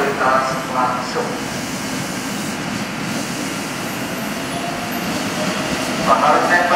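A train passes straight through a station on track 3 without stopping, producing a continuous heavy rumble that swells slightly toward the end, with announcement voices near the start and finish.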